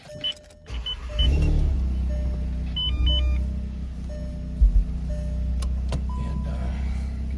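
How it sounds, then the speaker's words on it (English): A Volkswagen MK7 GTI engine cranks and starts, settling into a steady low idle, with a few electronic beeps and chimes from the dashboard. "let's go ahead and start my car"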